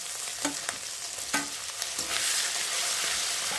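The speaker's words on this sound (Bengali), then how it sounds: "সব কিছু মশলা ভালো করে ভেজে নেবো।" Spice paste of turmeric, chili powder, salt and onion paste frying in oil for a rohu fish curry, a steady close sizzle broken by a few sharp scraping stirs, with no voices.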